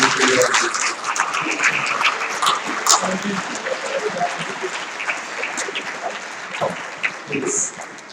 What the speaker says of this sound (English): I want to ask all of you to give them a round of applause for everything they do